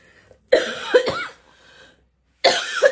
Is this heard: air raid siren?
no